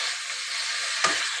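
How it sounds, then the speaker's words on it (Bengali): Cauliflower and potato fry with spices in a pan, giving a steady, close hiss of sizzling oil with a brief stirring scrape near the end before it cuts off. "এবার কপিগুলোকে কষিয়ে নেব।"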